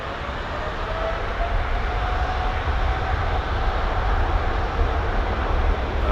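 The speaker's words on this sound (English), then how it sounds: "we've got to check this Aegean jet for our friend on the jump seat" An Aegean Airlines jet departing London Heathrow Airport roars steadily and loudly for the whole stretch, a broad engine rumble with a faint whine above it and no talk.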